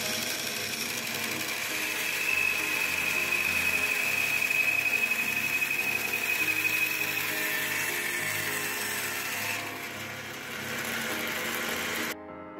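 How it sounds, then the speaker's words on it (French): A band saw fitted with a thin blade runs steadily with a continuous mechanical whir and faint rattling, a thin high whine appearing partway before the motor note shifts and stops. "Alors attention avec les scies à ruban, surtout quand on a une lame fine comme ça"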